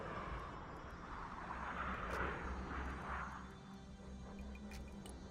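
A C-130 transport plane flies over in the military video game Broken Arrow, a faint, swelling propeller-engine drone that peaks and then slowly fades.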